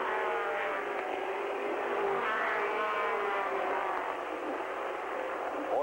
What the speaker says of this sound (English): Four-cylinder class here at the new Paris Speedway make a little noise as they go by